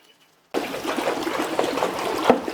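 After a brief silence, washing soda pours into heated water with a steady splashing trickle, close and continuous.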